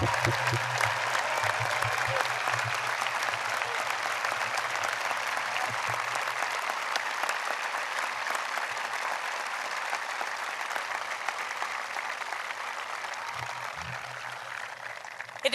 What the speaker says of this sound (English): let's recognize all of them with our applause